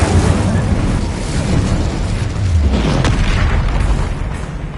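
The Confringo explosion spell in Hogwarts Legacy sets off a loud, rumbling boom that sustains and rolls with a crackling burst partway through, up close and heavy in the low end.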